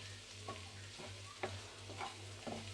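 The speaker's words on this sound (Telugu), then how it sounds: "వేసుకొని ఉప్పు పసుపు బాగా ఇలా పట్టే వరకు బాగా ఫ్రై చేసుకోవాలి." Beans and egg fry in a pan with salt and turmeric, stirred with a few soft scrapes and taps over a quiet, steady sizzle and a low background hum.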